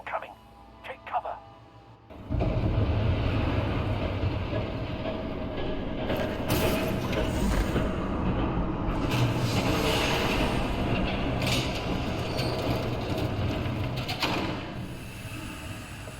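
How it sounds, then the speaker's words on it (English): A train rumbles past in the Batman Telltale Series game, a loud, steady roar with rail clatter that sets in abruptly after a brief quiet moment and holds for the rest of the clip, easing slightly near the end. "There's a train coming."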